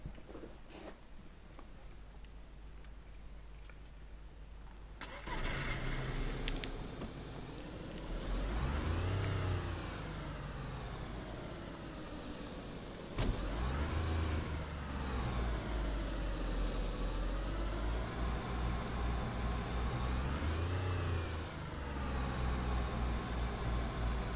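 A car in the survival game DayZ, running on only two wheels, cranks and starts, then revs and drives off with loud rising and falling engine surges and gear changes over about twenty seconds.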